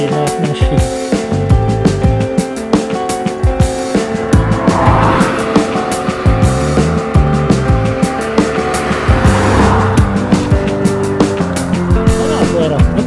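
Cars pass on a wide, straight road, with engine roar and tire noise that swell and fade repeatedly over a steady rumbling background.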